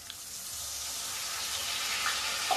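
Water is poured into a pan of curry masala with melted tomato, turmeric and salt, a steady broad rushing hiss like liquid hitting hot oil, continuous and fairly close for the whole stretch.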